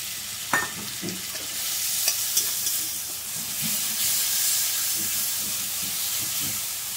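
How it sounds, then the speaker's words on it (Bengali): Cumin and ginger paste frying in oil in a pan, a continuous hissing sizzle with occasional scraping taps as it is stirred. "জিরা আদা দিয়ে ভালো করে ভেজে নেবো।"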